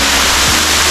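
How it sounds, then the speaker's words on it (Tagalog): A waterfall along a beach in Quezon Province, Philippines, roars in a dense, loud, unbroken rush of falling water, close and constant throughout with no voices. "dito ka naman ngayon sa falls."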